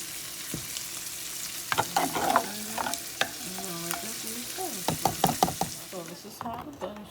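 Butter and lemon pepper sauce being stirred in a pan, with soft sizzling and repeated utensil scrapes and light knocks against the pan, close and fairly quiet, with a brief faint voice.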